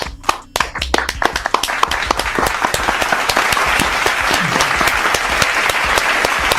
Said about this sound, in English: can we clap it up for Dan Quinn for the Evans sighting?